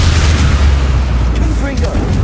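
Avada Kedavra killing curse cast in the Hogwarts Legacy video game, a loud, heavy booming blast that rumbles continuously and sits close and dominant, with a voice briefly audible in the mix.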